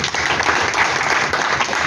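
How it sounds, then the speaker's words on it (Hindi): Audience applause at a CSC future-plan show, a dense, steady wash of many hands clapping throughout, fairly loud and continuous with no talk. "एक बार उनके लिए तालियां तो होनी चाहिए।"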